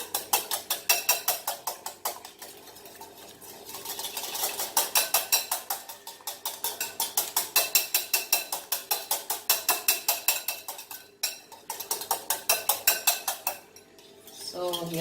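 Eggs whisked with coriander powder, chili powder and turmeric for a masala omelette, a fork beating rapidly and rhythmically against a bowl, close and steady with brief pauses.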